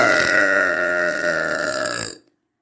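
A long, drawn-out, deep burp rumbles loudly and close for about two seconds before cutting off into silence.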